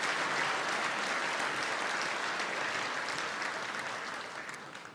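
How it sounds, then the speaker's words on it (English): Applause in St. Patrick's Hall after the Irish national anthem is sung, a dense wash of clapping from a large audience that holds steady and then begins to fade toward the end. "to great applause."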